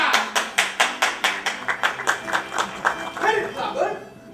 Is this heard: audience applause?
yes